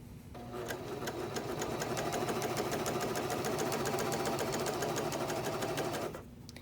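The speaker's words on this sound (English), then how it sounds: "Stitch along the edge, trimming a small amount from the edge." A serger stitches a lettuce hem along the edge of stretchy fabric, a steady rapid mechanical whir with a fine regular rhythm running for about six seconds before it stops, close and alone with no talking.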